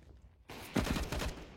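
A quick burst of close gunfire in the Counter-Strike video game, several rapid shots rattling out after a brief quiet moment.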